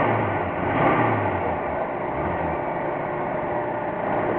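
A 1978 Ford F-100's straight-six engine runs steadily, a continuous low mechanical drone with slight swells in intensity, close and fairly loud with no one talking.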